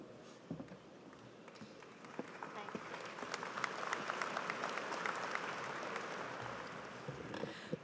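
A large commencement audience applauds steadily, the clapping swelling to a sustained roar and holding for several seconds in a big, reverberant space.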